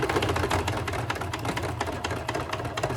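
A sewing machine stitches pleats on a fabric face mask with a filter pocket, a rapid mechanical clatter in short bursts with brief pauses, close and moderately loud, with no talking.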